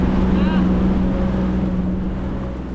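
A WaveRunner personal watercraft runs steadily on a cold lake, its engine hum carrying under rushing wind and spray from the water spout, loud and close throughout.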